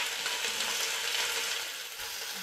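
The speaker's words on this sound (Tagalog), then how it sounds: "Igisa ko lang muna ito." Ginger sautéing in a hot pan gives off a steady, dense sizzle that stays loud and even from start to finish, easing off only slightly near the end, with no voices.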